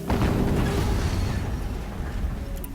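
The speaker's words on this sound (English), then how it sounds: "Another explosion." A single explosion in the Horizon Zero Dawn video game, a sudden loud burst that rumbles and slowly fades over a couple of seconds.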